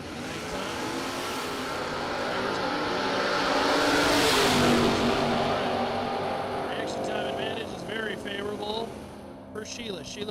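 A drag racing car, the Catfish Camaro, roars down the strip at a Superbucks drag event, its engine swelling to a loud peak before fading, with a track announcer talking over the noise.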